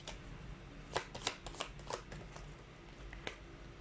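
Tarot cards are shuffled by hand in a quiet room, a series of soft, crisp riffling bursts in an irregular rhythm, close and fairly faint.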